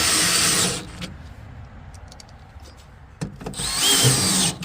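A power drill drives screws into an American Standard gas package unit during heat exchanger replacement, with two loud whirring bursts at the start and end separated by a quiet gap with a few faint clicks.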